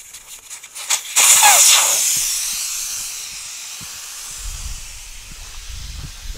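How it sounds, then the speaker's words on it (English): Air hisses sharply out of a tire as it is let down beside a DeWalt inflation station, a loud burst that fades into a softer hiss, followed by faint low knocks. "I'm going to air this guy down, fill him up, and we'll repeat the process until we run out of battery juice."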